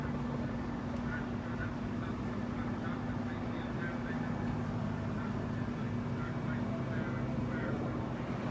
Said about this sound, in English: There's more helicopter and more airplane just showed up.